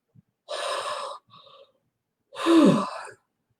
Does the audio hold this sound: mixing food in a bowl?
no